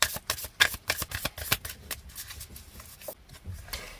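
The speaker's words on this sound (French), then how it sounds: "on va prendre une carte de l'oracle du chaman mystique" Mystic shaman oracle cards are shuffled by hand, a close run of quick papery riffles and soft slaps in an uneven rhythm, with faint rubbing as cards slide together.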